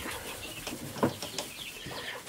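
Chickens on a small farm cluck in short bursts, with one louder call in the middle and fainter scattered clucks around it over a muddy yard.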